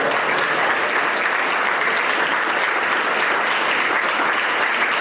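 Steady, dense applause from a large audience at the AFE Pro Football Hall of Fame ceremony in Canton, Ohio, sustained at even loudness throughout without a break.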